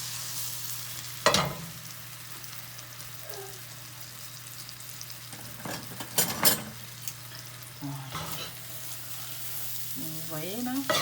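Slices of pain perdu frying in butter and sugar in a pan over medium heat, a steady soft sizzle running throughout, broken by several sharp utensil clinks and scrapes near the start, middle and end.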